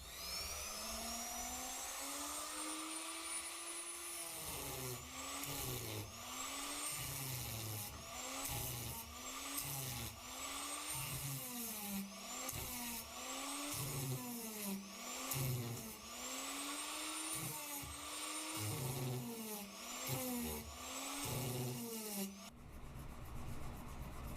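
A die grinder whines continuously with a spiral sanding band, shaping a knife handle, its pitch rising and falling in repeated strokes as it grinds, loud and close, cutting off abruptly at the end.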